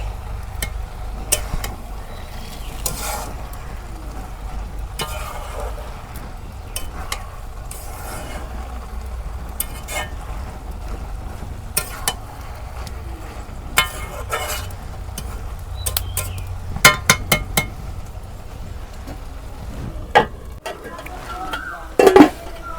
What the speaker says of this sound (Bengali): দেখি ভাজি, নাড়াচাড়া করে দেই যাতে যেন পুড়ে ধরে না